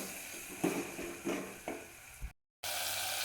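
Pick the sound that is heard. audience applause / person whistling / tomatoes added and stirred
tomatoes added and stirred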